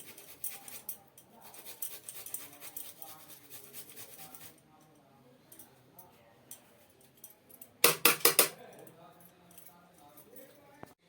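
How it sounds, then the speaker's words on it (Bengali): Ginger grated by hand for potato pakoras, a rapid scratchy rasping that fades out midway, with clinking bursts later and a voice talking throughout. "আর নিচ্ছি একটু আদাটা আমি ঘষে নিচ্ছি"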